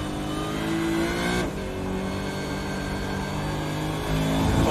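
A Supercars race car in the iRacing sim at Lime Rock Park drones loudly at high revs, drops sharply as the driver lifts, then climbs steadily again while accelerating out of a corner. The engine note is alone and close, with no voices.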